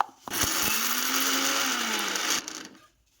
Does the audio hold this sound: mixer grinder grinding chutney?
yes